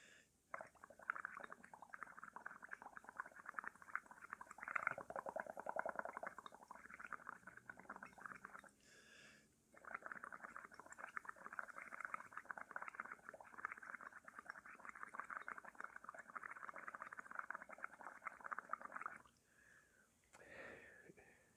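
Steady close bubbling and gurgling as air is blown through a straw into liquid in a chemistry class practical, continuing for long stretches with a brief pause midway.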